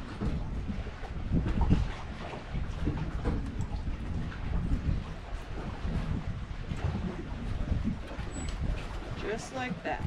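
Wind blows outdoors while a trot line is prepared, a steady rumbling gust across the microphone for the whole stretch, with a voice talking underneath.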